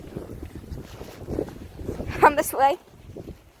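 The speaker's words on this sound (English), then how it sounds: "So I'm trying to block the wind as possible because I hate videos where it's windy." Wind gusts buffet the microphone in a park on a rainy day, a low rumbling rush under a person speaking briefly nearby.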